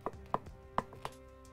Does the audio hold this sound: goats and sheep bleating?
no